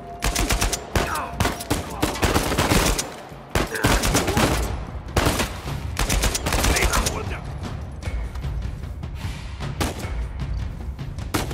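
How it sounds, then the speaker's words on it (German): Rapid bursts of gunfire in Uncharted 4: A Thief's End crackle continuously, dense overlapping shots and booms, loud and close, with volleys thinning slightly toward the end. "Der Schuss!"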